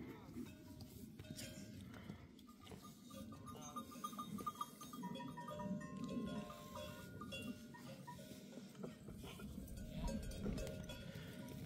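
Sheep in a rural pasture in Tokat, Turkey, bleat amid faint clanking bells and shuffling movement, fairly distant and quiet, while people talk nearby.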